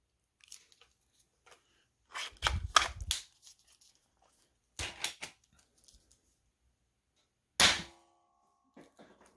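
A Nerf Breaking Wind blaster fired with Elite darts loaded in a blue shell: sharp, close snapping pops and mechanical clatter in a few separate bursts, with near silence between them.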